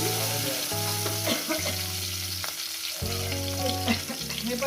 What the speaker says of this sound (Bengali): আলু বেগুন আমি সুন্দর করে ভেজে নিয়েছি।